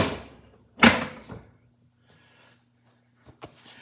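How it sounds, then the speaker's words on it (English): The hinged dome door of a Rock-Ola 1454 jukebox is raised, making a sharp mechanical clack followed by smaller rattles and a couple of faint clicks near the end, close by with no speech. "take a second, put the door all the way up again."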